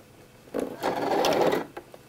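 A sewing machine stitches the shoulder seam of an embroidered dress, a short burst of fairly loud running lasting about a second, with quieter moments before and after and no talking.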